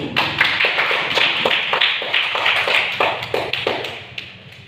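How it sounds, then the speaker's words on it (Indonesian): A school class clapping for a student group in a classroom, a short run of loud, fairly rhythmic handclaps close by that thins out and fades. "Kita berikan tepuk tangan untuk kelompok 1"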